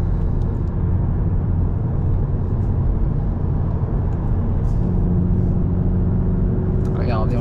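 A Cupra car accelerating at full throttle, its engine a steady loud droning rumble heard from inside the cabin, with a voice briefly speaking near the end.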